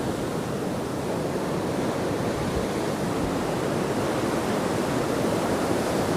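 Heavy sea breakers pound the shore at Hendon Prom after Storm Darragh, a steady, loud roar of rough surf and wash with no gaps, close by and unbroken by any voices.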